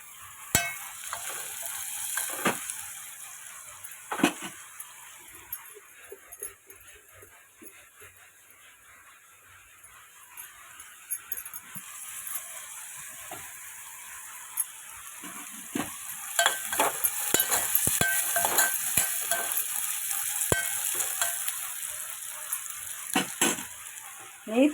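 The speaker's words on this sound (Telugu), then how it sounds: "నెయ్యితో తాలింపు వేయాలన్నమాట." Onions and green chillies fry in ghee for a tempering, a soft steady sizzle with scraping stirs that swell and fade, growing louder and busier toward the end.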